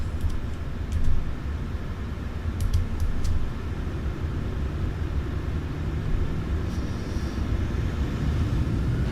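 A passenger airplane accelerates down the runway on its takeoff roll, heard from inside the cockpit as a steady, dense low rumble that holds throughout with no talk.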